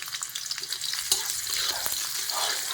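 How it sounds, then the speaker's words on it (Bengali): Green chillies and vegetables frying in a little oil for chilli chicken, a bright, steady sizzle with brief stirring scrapes, heard up close and alone. "আর এইটুকু তেলের মধ্যেই আমি সবজিগুলোকে ফ্রাই করব।"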